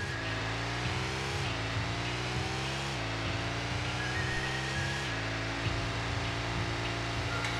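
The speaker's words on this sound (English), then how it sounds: "This is a new engine." A new car engine in the Rocket League video game drones steadily and loudly, its pitch rising and dipping in repeated revs over a continuous buzzing roar, with no talking.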